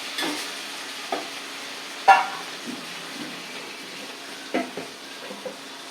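Ridge gourd pulp sautéed in oil gives a soft, low sizzle, broken by scattered spoon taps and scrapes against the pan.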